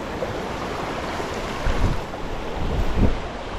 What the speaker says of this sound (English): The wind caught my cast there, big time.